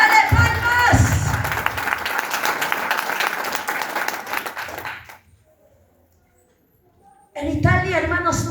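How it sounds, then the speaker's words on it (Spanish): A church congregation applauds, with loud clapping mixed with cheering and voices for about five seconds. The crowd then goes nearly silent before loud speech resumes. "Dale palmas."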